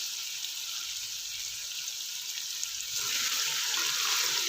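Chicken sautéing in a pan for yakhni pulao, a steady hissing sizzle that grows louder and brighter toward the end, with no talk.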